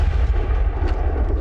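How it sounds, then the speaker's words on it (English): A supersized flechette gun firing small darts, heard as a dense, sustained low rumbling blast that fills the clip, loud and close, with no talk. "fire this supersized flechette gun"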